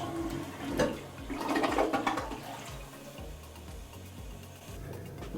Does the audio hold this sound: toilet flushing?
yes